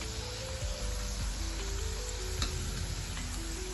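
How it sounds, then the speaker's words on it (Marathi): Sabudana and potato chakli deep-frying in oil, a constant close bubbling sizzle with light crackles and a faint tick or two, no voices. "हे बघा एकूण एक चकली आपली किती छान अशी फुलते येते तेलामध्ये"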